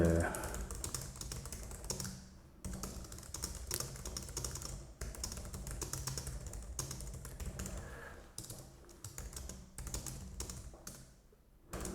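Rapid typing clatters on a computer keyboard in bursts with brief pauses, close and steady, while a person talks over it.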